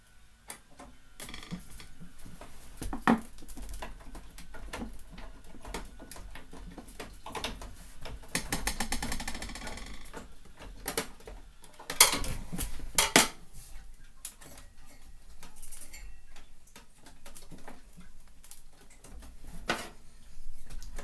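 Small tools and metal parts clicking and ticking while a tiny screw is worked out of an old PC during disassembly, with scattered light taps and scrapes close by, some louder clatter in places.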